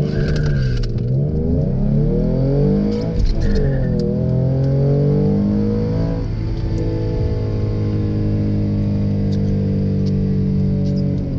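A tuned 2016 V6 Mustang accelerates hard from a standstill in a 0-60 run, its engine loud and close, revving up through rising pitch with a brief dip at a gear change before climbing steadily again.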